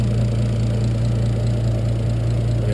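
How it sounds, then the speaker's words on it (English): A 1991 Toyota Supra's turbocharged 2JZ-GTE engine idles steadily after a cold start, with a fast, even ticking clatter of fuel injectors over a low hum, constant and close, with no voices. "most of that noise you're hearing is just injector noise"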